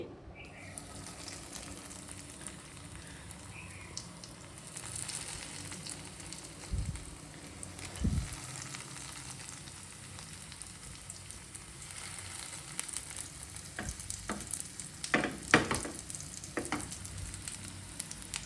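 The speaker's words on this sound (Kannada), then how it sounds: "ಕಟ್ಲೆಟ್ ಚೆನ್ನಾಗಿ ಬೇಯ್ತಾ ಇದೆ" Corn cutlets frying in an oil-filled pan, a steady soft sizzle running throughout with occasional louder crackles and bursts toward the end; no talking.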